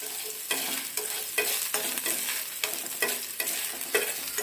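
Garlic cloves sizzling and frying in hot oil until brown, with repeated stirring strokes scraping the pan at a steady rhythm, close and fairly loud, no talking.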